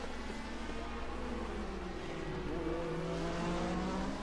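Race cars at the 1980 DRM Division 2 Norisring race thunder past in a continuous loud engine roar with rising and falling pitch as several cars approach and pass, under a faint crowd wash.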